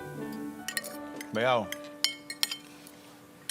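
Dishes and a bowl clink and clatter while being washed up, several light sharp chinks spread through the clip, with a person speaking over them.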